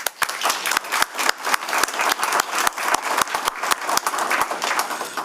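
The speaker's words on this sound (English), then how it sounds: "I'd like to give her a round of applause." An audience at a committee meeting claps in sustained applause, a dense patter of many hands with sharp individual claps standing out, fairly close and steady throughout.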